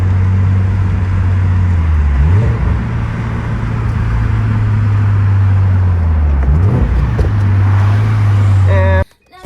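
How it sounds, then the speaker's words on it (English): A 2022 Subaru BRZ fitted with a MagnaFlow catback exhaust drones loudly and steadily, broken by two quick rev blips on downshifts, before the sound cuts off abruptly. "I wanna see if maybe you guys can hear some of that backfire that I have on the downshifts"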